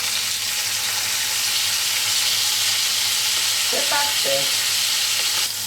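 Beef fillet searing in a hot pan for a peppercorn-sauce dish, a steady loud sizzle throughout with a few brief clatters as the meat is turned, and a short spoken phrase near the end.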